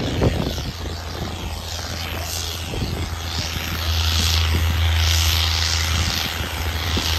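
A tractor engine roars under heavy load at a tractor competition, a loud, sustained rumbling drone that swells and strains with outdoor crowd noise around it.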